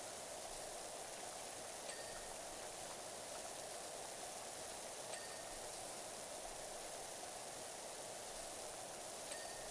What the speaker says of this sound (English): Good spraying here.